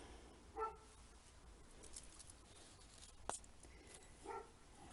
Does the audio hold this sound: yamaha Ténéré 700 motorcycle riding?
no